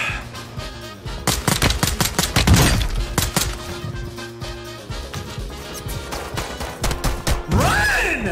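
Rapid dual-pistol gunfire in a video game, bursts of sharp close shots firing in quick succession across the clip, with loud crashing impacts and no talking.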